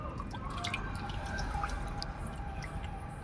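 Water poured at a polar parrot fish farm gives a steady liquid trickle with drips, running under a constant low background hum, with no talking.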